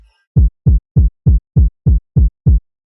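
Bass punch layer of a frenchcore kick drum, eight deep booming thumps repeating at a steady fast tempo, loud and isolated with clean silence between hits.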